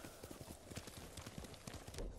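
Horse hooves clip-clop in a steady rhythm while riding through scenery in the video game Ghost of Tsushima, with soft ambient background underneath and no talk.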